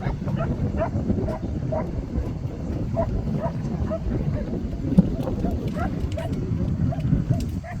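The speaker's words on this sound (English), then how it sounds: "Those dogs don't know good manners. They're only barking." Dogs bark repeatedly in short bursts at a moderate distance, mixed with people talking and outdoor background noise.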